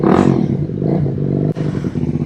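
A Honda Rebel 300 single-cylinder motorcycle revs close by, its engine note loud and rising briefly before settling into a steady idle with a slight dip near the end.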